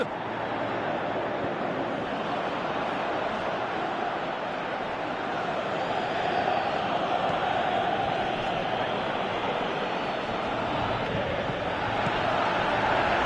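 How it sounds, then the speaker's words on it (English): Stadium crowd noise in a PES 2018 football match, a dense, steady roar of many voices filling the whole stretch, swelling slightly midway with no distinct individual calls. "Crowd calling for him."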